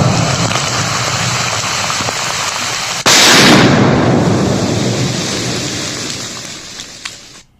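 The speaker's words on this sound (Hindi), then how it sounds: "इस बम को विस्फोट करा करके नष्ट किया गया है" An IED bomb of about 5 kg, recovered in a forest, is destroyed in a controlled detonation. A single loud, sudden blast breaks through a steady background rumble and is followed by a long rolling roar that slowly fades.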